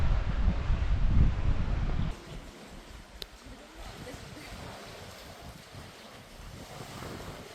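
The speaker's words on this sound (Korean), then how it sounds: "바다 소리가 들린다." Sea surf on a rocky island coast heard from a trail, a broad windy roar that is loud at first, then drops to a softer, steady wash with gusts of wind noise.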